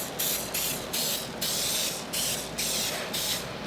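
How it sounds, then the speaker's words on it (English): Short bursts of coconut oil cooking spray hiss onto a baking pan repeatedly in a steady rhythm, about seven quick sprays close to the microphone. "Spray the pan."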